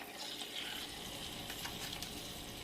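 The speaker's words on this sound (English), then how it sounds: "let's go ahead and put our steak in. And again, we're going to sear it on both sides." Two thin steaks sear in a hot pan for smothered steak and gravy, giving a faint, continuous sizzle and crackle with no talk.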